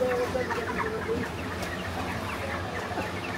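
Many chickens cluck steadily in a crowded backyard poultry setup, a dense, continuous flock murmur with scattered louder calls, fairly close and without pause.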